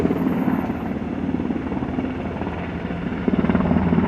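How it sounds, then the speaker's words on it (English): Two large black helicopters fly slowly overhead outdoors, a steady, loud rotor drone with a continuous thumping chop throughout. "it's 2 big black helicopters and they moving super slow"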